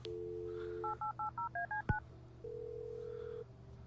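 Touch-tone telephone dialing in the 1995-set game Kathy Rain: a steady dial tone, then a quick run of seven even keypad beeps, a sharp click, and a longer ringing tone, all clear with no talk.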